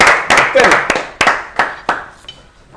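A small group at a French dinner-party show clapping in scattered bursts, with about eight separate sharp claps and short flurries that fade out, close by, and voices chattering over them.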